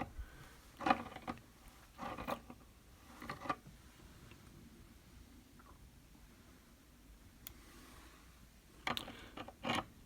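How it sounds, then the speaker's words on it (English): Small scattered clicks and ratcheting creaks come from a guitar output jack on a G&L USA ASAT being twisted counterclockwise, a few short bursts separated by quiet. "twisting counterclockwise until we can just get this thing comfortably loosened out"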